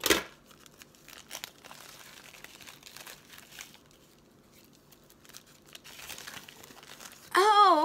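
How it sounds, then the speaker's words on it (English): A plastic mailer package from Wish is carefully cut open across the top, giving close crinkling and tearing rustles in short bursts, with a louder crackle of plastic at the end. "Cut off the top very carefully so don't cut whatever's inside."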